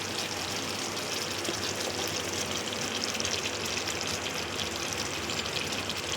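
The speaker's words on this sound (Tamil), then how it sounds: "இப்போ நம்ம அந்த அரைச்சி வச்ச கருவேப்பிலையை ஊற்றிடலாம்." Ground curry leaf paste mixed with liquid pours steadily into a simmering gravy, a continuous close, even wash of liquid noise with no pauses.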